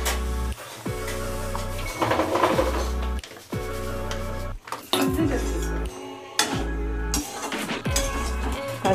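Pots and pans clatter in a home kitchen while semolina upma is being made, with repeated metallic clinks and scrapes of a pan and utensils coming in bursts separated by short pauses, close and fairly loud.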